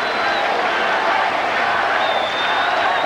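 An arena crowd at a fight roars loudly in one continuous wash of cheering and chanting, with overlapping voices and no clear individual words.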